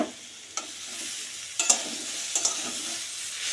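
Food sizzles in a frying pan while a spatula scrapes and stirs, giving several distinct knocks and scrapes over a constant hiss, close and without voices.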